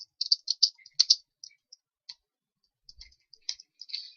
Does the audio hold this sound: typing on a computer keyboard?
yes